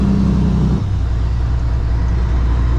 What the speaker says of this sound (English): So I'm going to rev it up to 16, pop it in the gear.